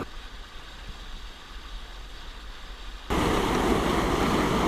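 Steady broadband rush of a river current pouring over a hydraulic standing surf wave formed where the riverbed suddenly deepens past a cement slab or rock, continuous and close, swelling markedly louder partway through.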